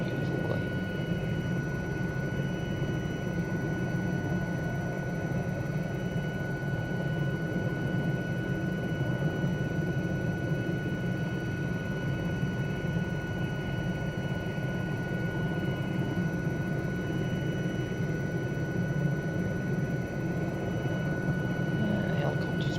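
An Aérospatiale SA316 Alouette III helicopter in flight over a Scottish glen, its rotor and turbine making a steady, droning hum with a faint high whine, continuous and even in level throughout.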